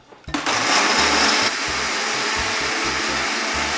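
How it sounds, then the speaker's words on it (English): A blender whirs loudly while blending vegan cheese ingredients including garlic and turmeric, starting with a sharp surge and then running as a steady, close drone with a slight dip in pitch partway through. "now that we have everything blended up in our blender"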